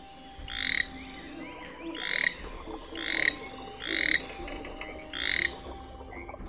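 A toad croaking five times in an even rhythm, each call a short rising burst, close and clear over a faint background hum.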